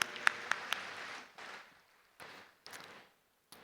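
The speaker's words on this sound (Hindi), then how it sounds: "इनके लिए तालियां बजाओ भाई" An audience applauds at a spiritual gathering led by a speaker: a few distinct claps, then faint, distant bursts of crowd clapping that rise and fade in patches before falling silent.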